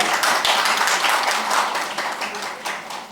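An audience at a public hearing in the National Assembly gives a round of applause, dense sustained clapping from many hands that fades slightly toward the end.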